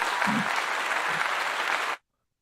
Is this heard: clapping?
yes